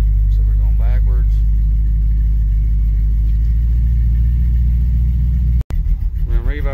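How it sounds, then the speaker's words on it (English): A carbureted V8 in a Chevrolet S10 pickup with a 4L60E automatic rumbles steadily as the truck backs up, the low engine drone continuous throughout, briefly cut by a sharp dropout near the end, with a voice speaking over it. "Put it in reverse. So we're going backwards."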